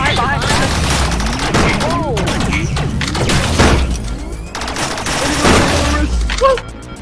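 Rapid bursts of shotgun fire crack and boom through a loud video game firefight, shots layered over one another amid constant chaotic action, with voices talking over the gunfire.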